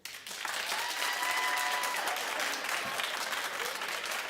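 Studio audience clapping on a daytime talk show, a loud continuous burst of many hands applauding together that rises quickly and holds steady to the end.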